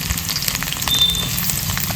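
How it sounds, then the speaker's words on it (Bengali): Chopped onions frying in hot oil in a pan to make beresta, a steady dense sizzle with crackling pops, loud and close, with no talk over it. "এই পেঁয়াজ দিয়ে কটা বেরেস্তা ভেজে নেবো।"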